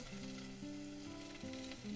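Onion hitting hot olive oil in a pan on high heat, giving a loud, close, continuous sizzle and crackle with no voices.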